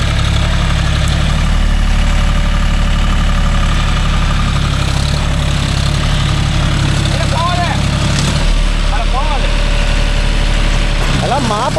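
A John Deere 5045D 4WD tractor with a 9-point cultivator in a coconut grove runs its engine at a steady, loud low throb that holds throughout, with people talking over it now and then.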